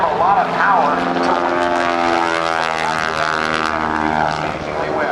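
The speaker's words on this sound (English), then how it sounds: "Watch it as he goes across the top. Listen to the engine." A small 3,000-pound aerobatic propeller airplane flying at the 2008 NAS Oceana Airshow, its engine droning loudly and continuously with shifting pitch as it passes, while a commentator talks over it.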